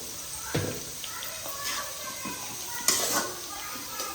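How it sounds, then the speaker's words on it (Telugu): A spoonful of turmeric stirred into a mustard seed and dal tempering in a pan, with a few clinks and scrapes of a spoon against metal over a faint, steady sizzle. "పసుపు వేసుకొని కలుపుకోవాలి"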